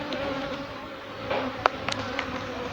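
Honey bees buzz steadily around an open hive during late spring hive management in Jamaica, a dense, continuous hum with a few individual bees zipping close past for brief louder moments.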